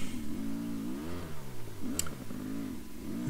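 A Sherco SE 300 Factory motorcycle revs on a dirt track, its mid-pitched engine rising and falling through several throttle blips, loud and close with no talk.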